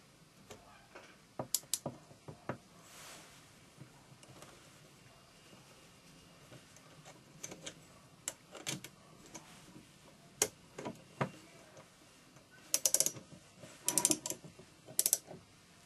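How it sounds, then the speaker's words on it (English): A small ratchet tightening an Allen screw on a case trimmer during assembly, giving scattered light metallic clicks and ticks, sparse at first and then quick clustered bursts near the end, close and quiet with no speech. "I have the little ratchet"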